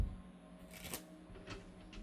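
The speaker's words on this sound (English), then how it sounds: "I'm still shuffling the cards" Tarot cards are shuffled by hand, with quiet riffling flicks in a few short bursts, soft and close against a faint background hum.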